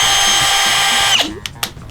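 Milwaukee M18 FUEL cordless hammer drill driver with a 13mm chuck whirs loudly at full speed for about a second, then winds down with a falling whine and a few clicks from the chuck and trigger.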